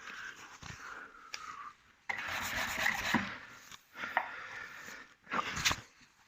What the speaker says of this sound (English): I'm using a Merkur Abranet sanding block